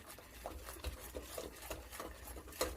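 Tutti frutti cake batter being stirred and mixed in a bowl, a soft scraping and patting with repeated strokes, faint and close, with no talking.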